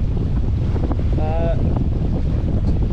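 Steady wind roar buffets a sailboat motor sailing into a headwind, a constant loud rush of air and water with a brief tonal whine partway through and no talk.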